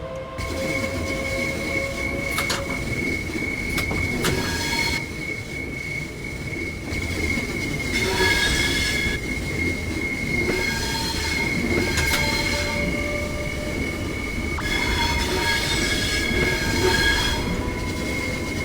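Train sounds in the video game Train Sim World 3 carry on steadily throughout: an empty train's rolling rumble with wheels squealing in repeated bursts and occasional clanks, with no one talking.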